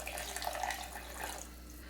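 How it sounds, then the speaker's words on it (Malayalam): Water poured into thick egg salna gravy makes a faint, continuous splashing stream that fades slightly toward the end, alone over a soft low hum. "ഇനി നമുക്കിതിലേക്ക് ആവശ്യത്തിനുള്ള വെള്ളം ഒഴിച്ചു കൊടുക്കാം."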